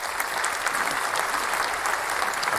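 Steady applause from a group, dense continuous clapping with no gaps, fairly close and loud throughout.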